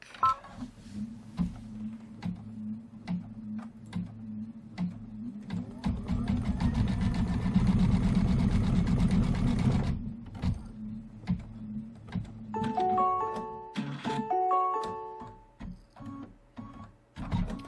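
Embroidery machine stitching a rocket spark detail in white thread, rapid mechanical needle clatter in bursts, a long loud dense stretch of stitching mid-way, then beeping tones and more stop-start running, all close with no talk.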